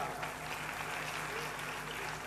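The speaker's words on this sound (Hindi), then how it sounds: "ताली बजाओ साहब।" An audience at a religious discussion gathering claps steadily in dense, continuous applause that holds at an even level from start to finish.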